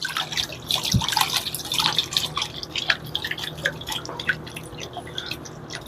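Pay dirt from an Ice Age gold prospecting dig being washed with water in a pan, close splashing and irregular dripping trickles throughout, loud and busy with no talk.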